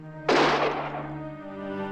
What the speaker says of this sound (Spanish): Vean, el disparo es distinto.